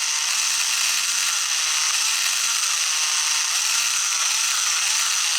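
The small electric motor of a motorized toy subway train whirs with a high, steady buzz, its pitch rising and falling repeatedly as the speed changes, close and continuous.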